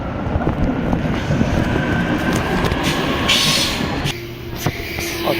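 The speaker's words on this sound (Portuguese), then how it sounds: "Olha que trem" A train rumbles past close by, a steady loud roar of wheels and cars with occasional high squeals, no talking.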